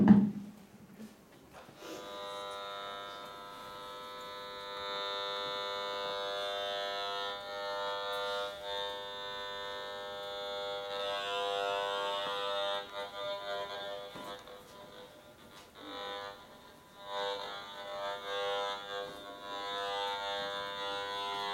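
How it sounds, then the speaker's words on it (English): A baby monitor gives off wireless signal noise, picked up as a steady, buzzy electronic drone rich in overtones. It warbles and pulses irregularly for about twenty seconds and is heard alone at moderate loudness. "The sound you are hearing is the actual frequency of the device that Raziel turned on at the back"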